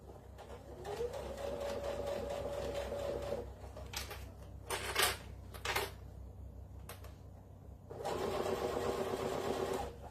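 Domestic sewing machine stitching a glasses pod, including a short back tack: a close whirring needle run, a pause broken by brief clicky bursts, then a second steady run.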